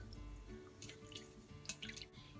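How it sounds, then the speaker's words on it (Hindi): Water dripping and trickling while a face mask is rinsed off at a sink, a faint run of soft close drips and splashes with no talking. "मैं इसको अब धो लूंगी।"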